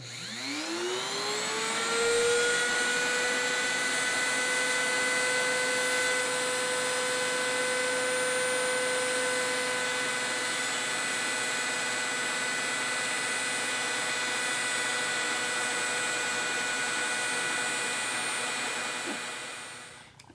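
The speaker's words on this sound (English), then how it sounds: "Got a rotary tool with a grinding bit. And I'm just going to try to take it down." A rotary tool with a grinding bit spins up to a high whine, then grinds down the gears of a refurbished action robot in one long, steady, close buzzing pass before winding down at the end.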